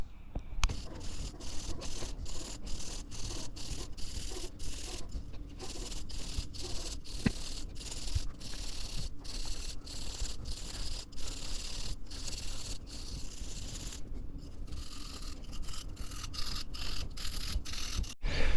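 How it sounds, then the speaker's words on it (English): Sandpaper rubs back and forth over a painted timber nunchuck handle, taking paint down to the white layer. The strokes come as a steady, close, rhythmic scratching that runs almost without break, with a short pause near the end. "I'm going to sand it back and hopefully just have the white paint exposed."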